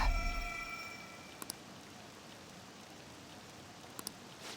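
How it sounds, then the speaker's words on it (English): Rain falls steadily in Persona 5 Royal as a soft, even hiss that stays quiet throughout, with a couple of faint clicks and no talking. "This rain ain't too bad."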